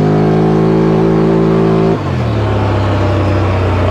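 Polaris off-road vehicle with an 86-horsepower single rear cam ProStar engine and PVT transmission, loud and close, a steady high revving hum that abruptly drops to a lower, rougher idle about halfway through.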